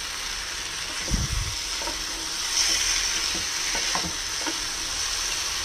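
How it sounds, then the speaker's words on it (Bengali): Chicken sautéing over a high flame in a pan sizzles steadily, with scraping stirs and a few clinks of the utensil, close up and with no one talking. "এই চিকেনটা খুব ভালো করে এটার সঙ্গে কষিয়ে নেব।"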